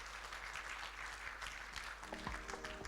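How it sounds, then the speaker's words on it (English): Audience applause at the APAC Summit 2024 Sustainable Cities startup showcase, a steady, dense wash of clapping lasting the whole stretch, with faint voices and tones rising beneath it near the end. "Can we have a huge round of applause for all the startups that are presented today?"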